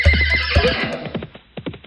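A horse neighs as a comedy sketch sound effect: a loud, close whinny with a shrill quavering start that breaks into a series of short, stuttering snorts and trails off.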